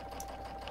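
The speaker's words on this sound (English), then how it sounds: "I can stitch kind of fast because" Sewing machine stitching binding onto Cuddle Minky plush fabric, a steady fast whirring hum with rapid needle rhythm running continuously and close throughout.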